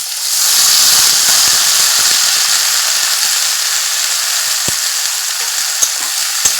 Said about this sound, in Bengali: নাড়াচাড়া করে একটু ভেজে নিতে হবে মাছগুলো একটু ভেজে নেওয়া হয়ে গেছে এখন কেটে রাখা কচুর লতি আর আলুগুলো একসাথে দিয়ে দেবো